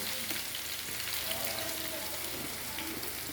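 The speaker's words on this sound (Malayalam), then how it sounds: "സവാള എണ്ണയിലേക്ക് ഇട്ടിട്ടുണ്ട്." Sliced onions frying in ghee, a dense even crackling sizzle like light rain, steady and close throughout the short stretch, with no talking.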